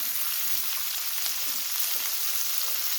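Onion and cabbage hitting hot cooking oil in a pan, giving a continuous close frying hiss and crackle with occasional faint stirring scrapes, steady and unbroken with no talk.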